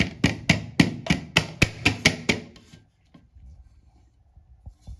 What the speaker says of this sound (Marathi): आता एक मोठी प्लेट घ्यायची ती केट्टीनवर ठेवायची आणि केट्टीन उलटा करायचा अशा प्रकारे आणि त्यावर थोडंसं टॅप करायचं